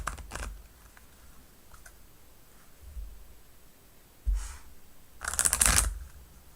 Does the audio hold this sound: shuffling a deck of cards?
yes